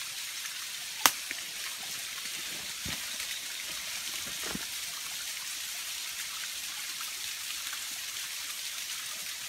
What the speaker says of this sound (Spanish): Mira el agua que cae.